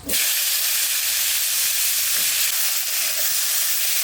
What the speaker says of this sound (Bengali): মাছ ভাজা তেলের মধ্যে উচ্ছে ভেজে নেব